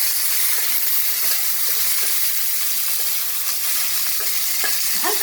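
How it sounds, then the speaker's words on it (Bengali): Small whole okra, trimmed at both ends, fry lightly in a pan with a steady, loud, close sizzle and hiss, and faint stirring scrapes come through near the end. "হালকা ভেজে নিলাম"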